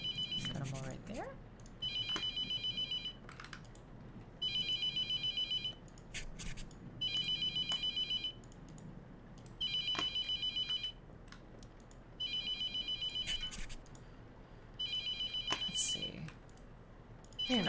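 A telephone rings in a horror video game, repeating in evenly spaced bursts with short silent gaps between them, under a low, steady background hum and occasional soft clicks.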